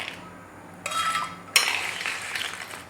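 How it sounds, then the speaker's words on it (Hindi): Ice drops into a jug of milk with two distinct clinking clatters, a smaller one and then a louder one, followed by a rattling settle, close up and without speech. "और इसमें मैं डालूँगी ये आइस"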